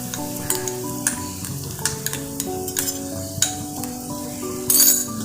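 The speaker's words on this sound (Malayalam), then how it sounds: "നന്നായിട്ട് ഇളക്കി കൊടുക്കാം." Onions, tomato, ginger, green chili and garlic stirred in a frying pan for Kerala-style beef curry, with a steady sizzle under repeated clinks and scrapes of a spoon against the pan, close and alone.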